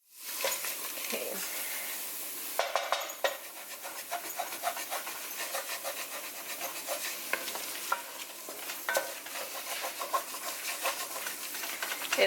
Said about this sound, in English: while I'm cooking my onions, I'm gonna use my wooden spatula to scrape all the brown stuff off the bottom